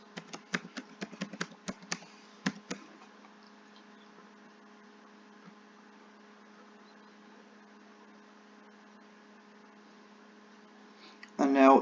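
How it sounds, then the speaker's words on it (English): Quick keystrokes of an administrator password typed on a computer keyboard, a short burst of clicks over a steady mains hum, then near silence. "And I'll type in the password."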